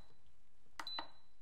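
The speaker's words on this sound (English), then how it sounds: "we're gonna do that by pressing the yogurt button until it says 12" An Instant Pot pressure cooker beeps as its yogurt button is pressed while making homemade Greek yogurt: two short, quiet electronic beeps in quick succession in a calm kitchen.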